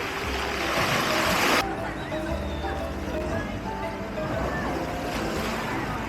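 Strong sea waves roll onto the shore at a beach resort, a steady loud surf wash that runs through the whole stretch, with people talking over it.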